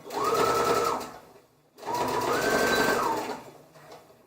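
Sewing machine running in two sustained bursts while stitching a shirt seam that thins toward a point, with a brief pause between runs; loud, close and steady, with no talking.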